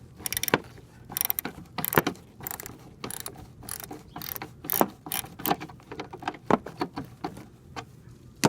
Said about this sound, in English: we're going to take our 7mm socket and take off these two bolts here